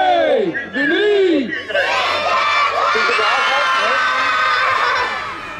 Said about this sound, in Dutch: 1, 2, 3, Sinterklaas gaan wij roepen.